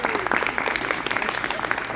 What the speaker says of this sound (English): Let's hear a round of applause for our Councilwoman